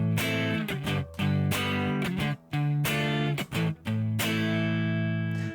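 Electric guitar playing the Dani California chord progression, loud close strummed chords with a slightly driven tone, several quick stops between strums in a steady rhythm.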